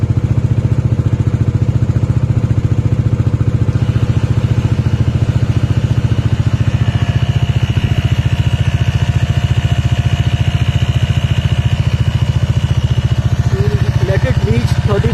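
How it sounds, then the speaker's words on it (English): Bajaj Dominar 400 motorcycle engine idling nearby, a loud, steady low-pitched rumble with rapid pulsing that holds unchanged throughout, with faint higher-pitched sounds near the end. "So once again, you start your bike."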